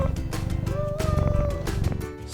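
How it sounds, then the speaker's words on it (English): A cat meows with a drawn-out, wavering cry that lasts nearly the whole moment, heard over a steady musical backing. "Six cats."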